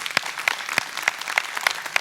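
A church congregation claps in a steady rhythmic beat, roughly three sharp claps per second, close and clear with no talking.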